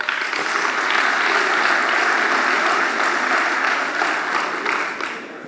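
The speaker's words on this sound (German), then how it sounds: "Und jetzt dürfen Sie einer selber klatschen." An audience at a political lecture in a town hall claps in sustained, dense applause that swells and then gradually fades, heard from within the crowd.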